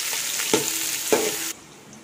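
Chopped onions sautéing in a pan for chicken biryani, a steady hissing sizzle broken by two brief stirring scrapes, then cutting off abruptly to a quieter tail.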